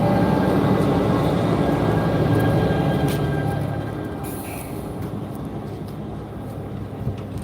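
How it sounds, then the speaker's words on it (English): Steady low rumble of a Bombardier locomotive on an exo commuter train near Montreal, a dense continuous drone that eases slightly partway through, with no talking. "And here's our locomotive right here. Also made by Bombardier."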